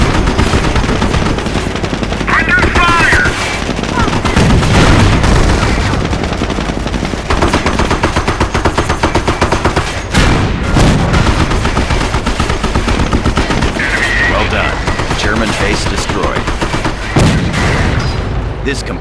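Gunfire rages through a Company of Heroes video game battle: dense, continuous machine-gun bursts and rifle cracks with occasional heavier booms, loud and close, with a voice speaking briefly within the din.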